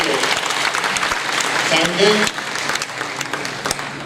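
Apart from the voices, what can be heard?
audience applause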